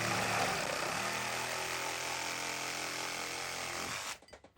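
A compact reciprocating saw runs loud and continuous while cutting, its motor drone holding steady for about four seconds before it cuts off abruptly and a few faint rattles follow.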